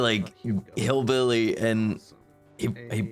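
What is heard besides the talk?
No everyday noises stand out.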